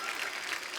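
A studio audience applauds for a singer on a television comedy show, a brief steady burst of dense crowd clapping.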